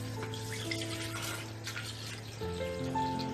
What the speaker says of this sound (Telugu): పాత్రలో 1 లీటర్ పాలు వేసుకుందాం.